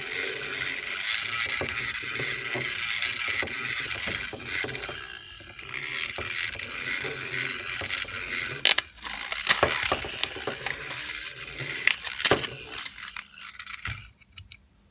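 A small line-tracking kit car runs with its electric motors whirring and wheels spinning, giving a steady close-up mechanical buzz with scattered clicks and rattles toward the end.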